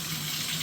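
Water draining steadily from a freshly unclogged sink or tub drain, a continuous close rushing flow with no pauses and no talk.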